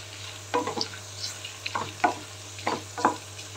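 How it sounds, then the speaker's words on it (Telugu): Green chillies and dried red chillies frying in a pan for dal khichdi, a soft sizzle with a few bursts of stirring and scraping, close and fairly quiet. "కొంచెం పచ్చిమిర్చి కూడా వేస్తున్నా, ఎండుమిర్చి వేస్తున్నా. ఇప్పుడు కొంచెం వేగనిద్దాం."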